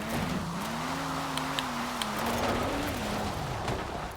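A car drifting around a corner in a video game, its engine droning steadily with a wavering, rising and falling pitch as it slides, loud and continuous with no talk.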